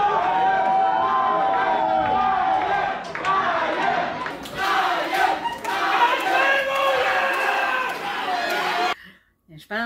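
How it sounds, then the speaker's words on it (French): At a fight event, a large crowd in an arena chants a fighter's name with loud, rhythmic roaring and shouting that fills the space and then cuts off abruptly near the end. "Mais la foule continue « Brian, Brian!"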